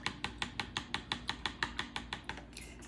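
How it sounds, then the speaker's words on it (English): A whisk beats hot broth in a casserole pot, making rapid, regular metallic taps against the pot, roughly six per second, steady and fairly close, with no speech. "It's whisking."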